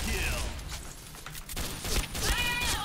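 K5 pistol gunfire in an online shooter game, a few quick shots and mechanical clicks mixed with game noise, moderately loud and close.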